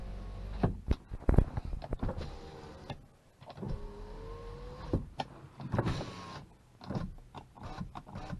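A rear power window on a 2014 Subaru WRX Limited runs with a faint whirring motor hum, broken by clicks and small knocks, quiet and close with no talk.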